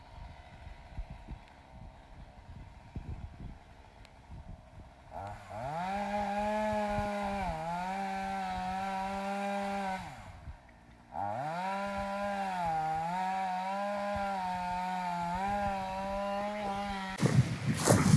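A chainsaw roars at steady high revs through two long cuts in a felled white oak tree, with a short dip in between, after some quieter low rumbling at the start.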